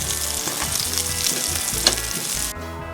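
Chicken frying in a pan gives a dense, steady sizzle with light crackles and stirring scrapes, close and fairly quiet, cutting off abruptly near the end.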